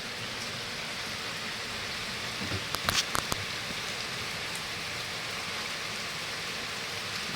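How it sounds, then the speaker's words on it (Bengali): Heavy rain pouring outside, a steady, diffuse hiss of downpour with a brief cluster of clattering drops midway, fairly quiet and without voices. "প্রচুর বৃষ্টি হচ্ছে,"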